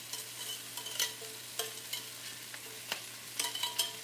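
Cabbage cooks in a pan with sausage and turkey bacon, sizzling quietly and steadily close by, while a utensil stirs and scrapes in soft irregular clicks.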